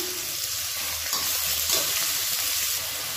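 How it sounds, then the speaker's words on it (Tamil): Large onions salted and sautéing in a pan for a chicken gravy, a steady close sizzle and crackle of frying with faint stirring, alone without talk. "இப்போ இந்த வெங்காயம் வதங்கிட்டு இருக்கட்டும்."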